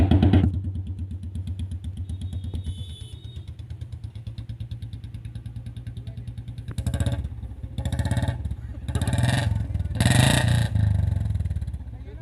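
Motorcycle with a short bottle silencer and round bend pipe, first idling steadily, then revved in several loud, close bursts with rising and falling engine roar; people talk in the background.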